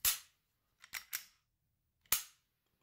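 Sharp clicks from the trigger of a Glock 17 Gen5 FR Coyote pistol being dry-fired: a crisp snap, a quick double click a moment later, then one more snap, close and alone.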